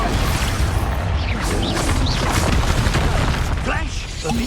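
Expulso explosion spell cast in Hogwarts Legacy combat, loud booming blasts and whooshing bursts layered over continuous battle noise with brief voice shouts.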